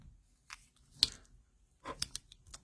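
Scissors cutting paper strips for a Christmas card, a few sharp close snips spaced apart, with quiet pauses between them in a still room.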